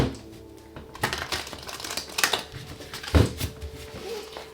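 A deck of tarot cards shuffled once more, quiet at first and then a close, busy patter of flicking card edges with a firmer knock of the stack near the end, and no talking.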